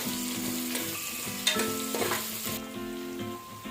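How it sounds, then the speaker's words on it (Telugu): Potatoes and vegetables frying in hot oil with ginger and garlic for a soya chunks biryani: a dense, steady sizzle with a few utensil scrapes and knocks, easing slightly toward the end, no speech. "ఇప్పుడు బంగాళదుంపలు వేసుకుంటున్నామండి సో వన్ బై వన్ కూరలు అన్నీ వేసుకుంటాము"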